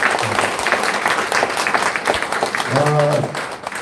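Audience applause welcoming guests at a Korean political endorsement rally for a People Power Party candidate in Seongnam Sujeong, a sustained crowd clapping with a voice speaking over it near the end.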